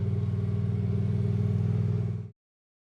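A Walker ride-on lawn mower's engine hums steadily at close range with a low, even drone and faint clatter, then cuts off abruptly into silence near the end.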